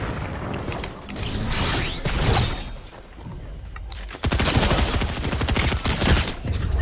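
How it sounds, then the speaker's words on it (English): Rapid video-game gunfire aimed at a rock: dense, loud bursts of shots rattle on continuously, turning heavier and more sustained partway through, with no voices over it. "Oh, he's shooting at the rock."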